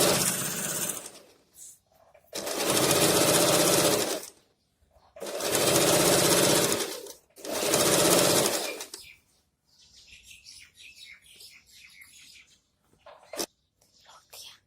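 A sewing machine stitches pants in three loud, close bursts of rapid whirring separated by pauses, followed by softer handling and quiet movement.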